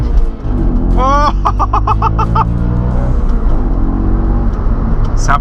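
An Audi RS4 with a 420 hp V8 and four-wheel drive accelerates hard from inside the cabin, the engine note rising through rapid revs with a loud, steady roar and a sharp gearshift, while a person talks over it.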